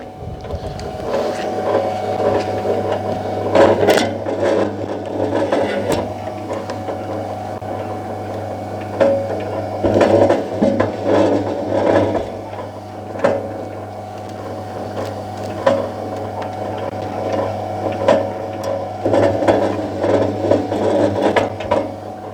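Steady mechanical hum and whir of a cable stripping machine cutting the insulation off 3x1.5 mm² installation cable, a constant droning motor tone with irregular clicks, knocks and rattles throughout, loud and close with no talking.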